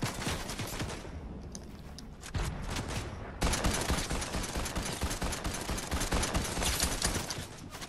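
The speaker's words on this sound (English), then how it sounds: "They're shooting at me." Rapid gunfire in Fortnite, bursts of shots rattling continuously and growing louder and denser partway through, without talk.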